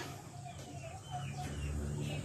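Japanese Shamo rooster among other chickens outdoors, with a few soft clucks over steady low background noise; someone speaks nearby.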